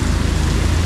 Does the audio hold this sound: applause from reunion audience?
no